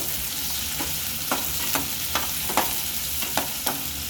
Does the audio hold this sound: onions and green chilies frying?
yes